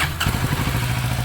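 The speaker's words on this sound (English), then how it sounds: "let's do a little sound test on this thing with the stock exhaust system" A 2023 Kawasaki Z650RS motorcycle on its stock exhaust idles close by, a steady, low, even thrum with a soft thump near the start, alone with no voices.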